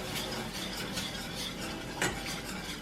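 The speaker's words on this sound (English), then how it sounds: "You just want to add a little bit at a time and stir that in with your whisk." A whisk stirring milk into gravy in a pan, faint repeated metallic scraping strokes over a soft background, with one sharper clink near the end.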